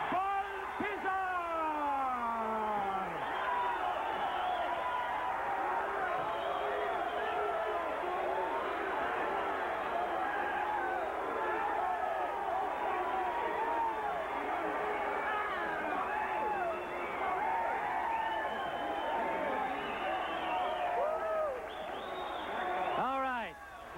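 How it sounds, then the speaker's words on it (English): Boxing arena crowd roars and cheers after a unanimous decision in the Tony Baltazar vs Roger Mayweather fight, a steady wash of many shouting, whooping voices lasting throughout, with a commentator talking over it. "You can see the crowd here deliriously happy."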